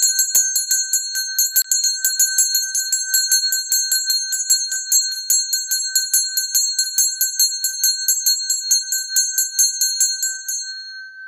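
A small bright ritual bell rings rapidly and continuously over a Hoodoo gris-gris bag, a steady metallic jingle close up, fading out at the end.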